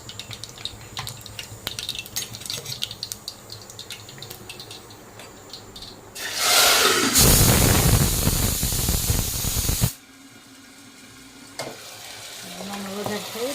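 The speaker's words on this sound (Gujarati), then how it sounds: "અજમાનનો વઘાર" Ajwain seeds tempering in hot oil burst into a loud, dense sizzle for a few seconds after a quieter stretch of low background noise, then drop back to a faint hiss with soft kitchen clatter.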